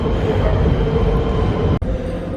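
A steady, loud rumble of a London Underground train running along the tracks at Shepherd's Bush, with a brief sharp dip near the end.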